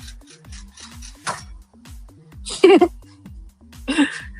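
An air conditioner makes a repetitive rubbing, ratcheting noise in a steady rhythm of short scrapes about twice a second, close and fairly quiet, with a few louder bursts mixed in.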